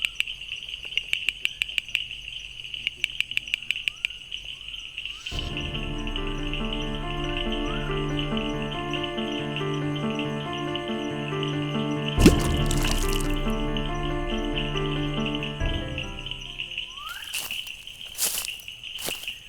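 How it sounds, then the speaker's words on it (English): A male bush frog calls with a quick series of sharp repeated clicks early on, followed by a long, steady tonal drone with occasional brief noisy bursts. "That's one male bush frog displaying."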